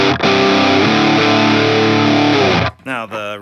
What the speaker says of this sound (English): Let's hear the vintage.